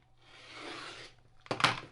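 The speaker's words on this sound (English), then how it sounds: "now I'm just trimming off this long narrow piece" Fabric being trimmed for quilt block pieces, a soft steady rasping cut building over a second, then a brief sharper burst of cutting and handling near the end, close and without talk.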